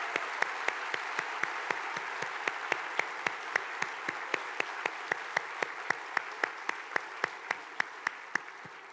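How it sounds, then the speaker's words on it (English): Audience applause for nursing graduates at a university pinning ceremony: steady, dense clapping that holds through the whole stretch with sharp individual claps standing out, no voices over it. "Let's give them another round of applause."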